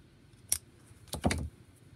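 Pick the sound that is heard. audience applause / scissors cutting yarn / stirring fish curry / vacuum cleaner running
scissors cutting yarn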